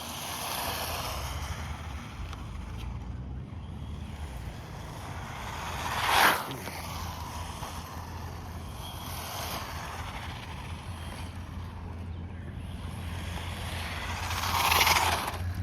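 A Hosim Moxlin M13 1/14 scale RC stadium truck runs outdoors at a distance, its faint motor buzz buried in steady wind and broadband rush, with two brief louder swells as it passes closer.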